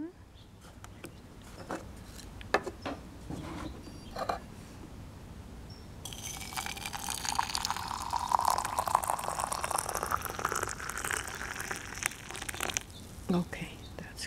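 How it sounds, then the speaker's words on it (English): Water poured from a kettle onto black tea leaves in a pot, a steady splashing fill that starts partway through after some crinkling and handling noises, continuing for several seconds before tapering off. "Back, pour in water."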